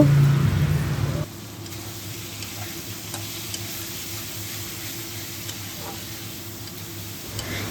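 A brief loud burst of stirring gives way to a steady sizzle of Kashmiri chilli powder frying in oil, with occasional faint ticks and pops over the constant hiss.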